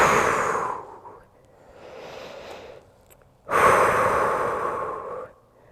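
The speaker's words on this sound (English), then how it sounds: "Big breath." Deep breathing during a yoga class: a long inhale followed by a fuller, louder exhale, with no talking over it.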